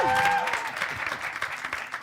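Short burst of audience applause at a film screening and discussion in a hall. A brief tone sounds at the start, then the clapping fades quickly into scattered claps and murmuring.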